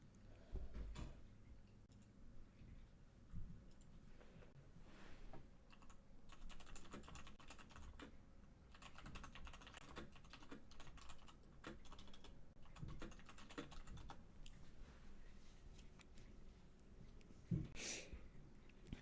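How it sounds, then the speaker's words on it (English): Clacky keystrokes on a white Royal Kludge RK87 mechanical keyboard with brown keycaps, steady close-up typing in irregular bursts that carries on throughout, with a sharper clack near the end. "I have the Royal Kludge keyboard in white."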